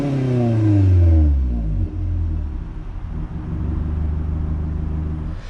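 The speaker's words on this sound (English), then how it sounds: "The normal Corolla has a twin tip single outlet, but this one doesn't sound bad, but it's not ricerish either." A 2022 Toyota Corolla XSE Apex with a single-tip exhaust revs close by. The engine note climbs to a loud peak, drops back, then holds a deep, throaty rumble with no other sound over it.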